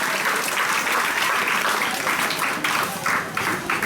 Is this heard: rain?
no